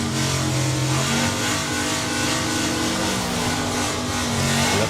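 A drag racing car fitted with wheelie bars launches hard at a vintage drag strip meet, its engine roaring loud and steady at full throttle with a rising note, close and dominant throughout, no talk.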